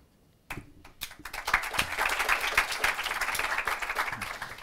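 Audience applause at a school quiz contest starts with a few scattered claps, then swells into dense, fairly loud clapping from the crowd that carries on steadily.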